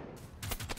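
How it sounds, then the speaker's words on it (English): A few quick shotgun blasts in the robot-survival game Generation Zero, loud and close with short snappy reports. "okay, I'm gonna go shoot this guy in the face."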